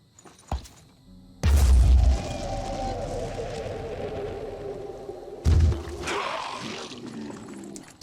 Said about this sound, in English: Here comes the first grenade.